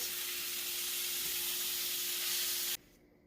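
Ground beef frying in a skillet gives a steady, loud broadband sizzle and hiss that holds evenly for nearly three seconds, then drops off abruptly to a quieter hush.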